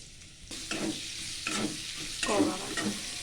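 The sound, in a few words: onions frying and sizzling in hot oil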